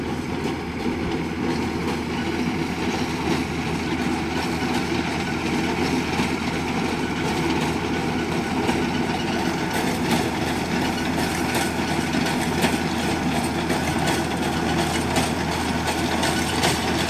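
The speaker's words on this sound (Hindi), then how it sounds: "अब देखिए आ रहा है ट्रैक्टर" A tractor pulling a reaper binder through a crop field approaches with a steady, heavy diesel drone and mechanical clatter. The noise stays loud and unbroken throughout.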